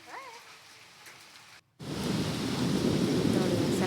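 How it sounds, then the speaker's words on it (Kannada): Heavy rain with hailstones and strong wind bursts in as a loud, dense, steady roar after a brief quieter stretch and a sharp gap. "ಒಂದು 2 ತಾಸು ಫುಲ್ ಬೀಳ್ತಾ ಇತ್ತು ಮಳೆ, ಆಲಿಕಲ್ಲು"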